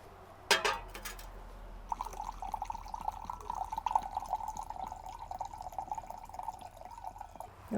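80 proof vodka is poured into a container to make homemade vanilla extract, a thin, steady trickle of liquid splashing and gurgling close up for several seconds after a couple of sharp handling clicks.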